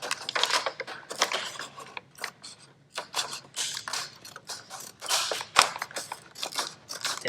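Scissors cutting through custom figure packaging by hand, a close series of irregular crunching snips with short pauses between strokes.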